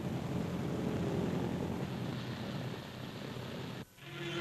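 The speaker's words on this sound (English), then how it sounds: "The first plane lands on the new strip" A wartime airplane lands on a newly built airstrip, its engines and propellers droning loudly and steadily before the sound cuts out abruptly near the end.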